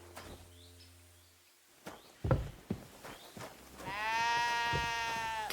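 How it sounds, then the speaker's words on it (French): A sheep in Kingdom Come: Deliverance II gives a drawn-out, wavering bleat near the end, after a few soft footsteps and thuds in a quiet indoor game scene. "Qu'est-ce que cette brebis fait là?"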